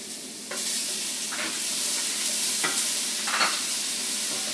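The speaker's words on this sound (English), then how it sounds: "I'm going to go ahead and saute the jalapenos and the minced garlic." Jalapenos and minced garlic sauteing in coconut oil in a pan over medium-high heat: a steady, bright sizzle with several scraping stirs, close by and without speech.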